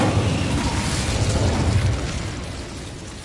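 A sustained roaring whoosh of the Incendio fire spell cast in the video game Hogwarts Legacy, a dense, loud burst of flame that holds steady and then slowly fades.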